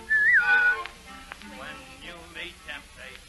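A short whistled melodic phrase opens the passage, loud and close, from a radio-theater adaptation of Pinocchio; it gives way to quieter music and voices behind.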